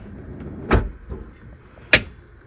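A drawer slides shut into a spice organizer, two sharp knocking thuds about a second apart with a softer bump between, close and distinct against a quiet room.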